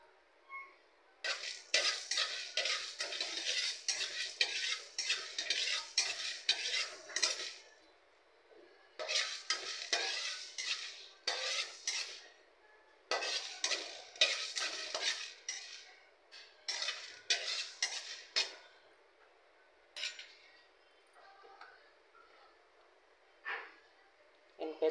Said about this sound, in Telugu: దానిలో ధనియాలు ఫస్ట్ ఇవి వేయించుకొని మళ్ళీ తిరమాతకు పెడతానండి